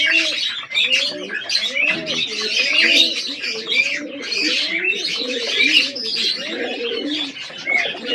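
Pigeons cooing continuously in a cage setting, overlapping throaty coos and rolling calls with brighter chirps and twitters above, dense and close, with no pause.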